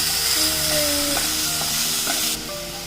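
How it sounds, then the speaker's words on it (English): Onions sizzle in hot oil in a pan as they go in, a bright close crackling hiss with light clinks of stirring, steady before dropping abruptly near the end, no talking. "pour your onions onto the pan. And you can see the oil is nice and hot, so the onion is already cooking"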